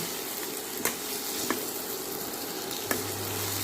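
Ivy gourd stir-fry sizzling steadily in a pan as a ladle stirs it, with a few sharp scrapes against the metal over the continuous frying hiss.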